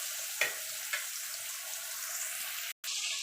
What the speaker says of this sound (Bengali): অল্প অল্প করে দিয়ে ভেজে নেব।